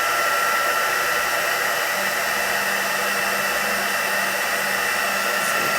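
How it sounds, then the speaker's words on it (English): Heat tool blowing steadily onto chipboard during heat embossing, a continuous broadband hiss with a faint low hum, close and unbroken throughout with no talk. "you just apply your heat tool, or the heat, to the chipboard"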